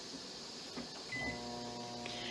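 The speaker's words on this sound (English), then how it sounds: "I also have some butter in the microwave." Microwave oven running to melt butter, a quiet steady hum that gains a soft tonal drone partway through, with faint clicks around it.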